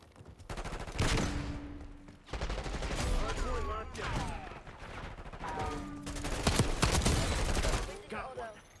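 AK74 gunfire in Black Ops 6 rattles out in loud, rapid full-auto bursts with brief pauses between them, close up, with faint game sounds in the gaps.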